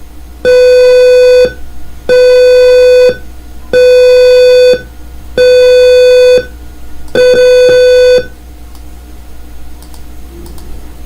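A gas leak sensor alarm at a critical level sounds five loud, even electronic beeps, each lasting about a second with short gaps between, followed by a faint hum.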